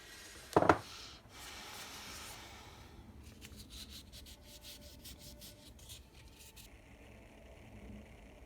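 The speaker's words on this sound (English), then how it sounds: "I'm gonna hit it with the Pro Polish pad just so you can see what that looks like" A polishing pad rubs along a metal jewelry chain, giving a soft, continuous scrubbing friction held close and quiet, with a brief sharper scrape near the start.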